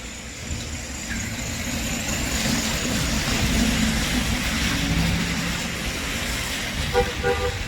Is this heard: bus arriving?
yes